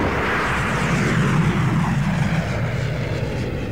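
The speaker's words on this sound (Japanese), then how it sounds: "新しい戦闘機だ。" A fighter jet launches from a spacecraft's launch bay in a radio drama: a loud, continuous engine roar and rush that holds steady and fades slightly toward the end, with no voices.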